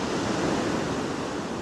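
Big ocean waves break on a beach among sea stacks in northern Spain, a dense, steady roar of surf with no voices.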